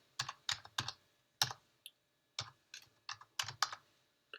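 Someone types on a computer keyboard, heard as close, crisp key clicks in short irregular bursts with brief pauses in between, in a quiet room without talking.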